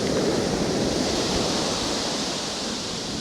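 Sea washing on the steep shingle bank of Chesil Beach on a calm day, a dense continuous hiss of surf that eases gradually in loudness, with no voices over it.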